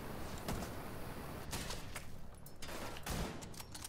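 Sniper rifle shots fired in The Division 2, a few sharp cracks spaced apart over steady game ambience, fairly faint and distant.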